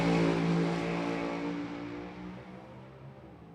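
Hot rod drag car at the California Hot Rod Reunion revving loud and close on a single run, a rough, heavy engine roar that starts strong and slowly fades as it pulls away.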